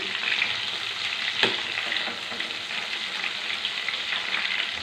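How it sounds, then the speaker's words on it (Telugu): Eggplant and yam fry in a pan, a steady close sizzle with a brief scrape of stirring partway through, no voices. "ఇట్లా తిప్పుకోవాలి వేగుతాయి మెత్తగా పడిపోయండి"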